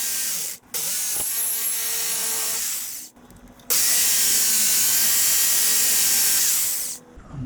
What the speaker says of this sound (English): We're going to try the jigsaw.